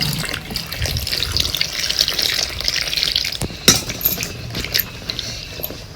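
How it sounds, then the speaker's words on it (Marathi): Bell peppers being rinsed under a running kitchen tap, a steady close splash of water with a few faint clinks partway through. "ही मिरची आपल्याला धुवून घ्यायची।"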